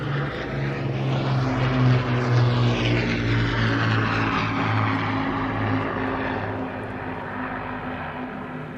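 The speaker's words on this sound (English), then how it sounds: "you enjoy the sounds of the Lancaster" Propeller engines of an Avro Lancaster bomber drone loudly and continuously, a deep rumbling roar with a steady throbbing tone that fades slightly toward the end.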